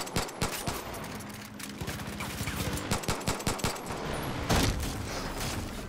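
Bursts of rifle fire in the shooter game Far Cry 5, a run of sharp repeated shots in quick rhythm, then a heavier crack near the end over a low game background.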